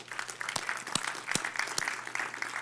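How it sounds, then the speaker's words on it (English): Church congregation clapping during a sermon, a dense wash of applause with a few sharper individual claps standing out, steady and fairly close, with no talking over it. "We need to give the Lord a hand clap for that."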